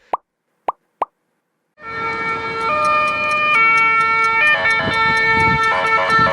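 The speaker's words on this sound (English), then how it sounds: "It's the ambulance." After three short plopping pops, an ambulance siren blares loud and close, a two-tone alternating wail cycling steadily with faint traffic rumble underneath.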